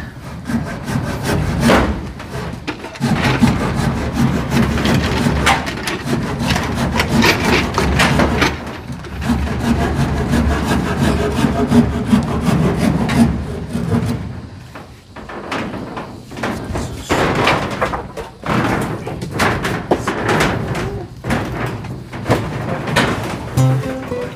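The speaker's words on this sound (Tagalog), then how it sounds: "Lagari." Repeated back-and-forth strokes of a hand saw biting through wood, close and loud, with brief pauses between bursts of cutting.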